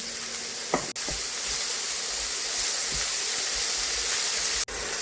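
Finely chopped onion sautés in about three tablespoons of hot oil with a steady, loud sizzle and hiss, plus a couple of brief stirring scrapes.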